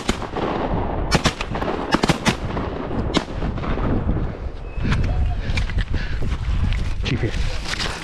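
Several shotgun blasts ring out during a goose hunt at a river spot in a snowstorm, sharp loud reports spaced irregularly over wind and hunters talking nearby.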